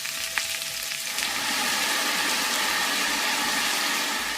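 Mushrooms brown in a pan for beef stew, one batch at a time, a close, steady hiss of sizzling that swells after a few faint clicks and stays even to the end.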